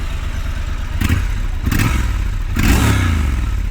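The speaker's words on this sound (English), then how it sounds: "I hope you can hear that, but the engine sounds superb." Triumph Scrambler 1200 XE with a 1200cc parallel twin engine, heard close up as it revs in three rising surges with a deep rumble and some mechanical clatter, no voices.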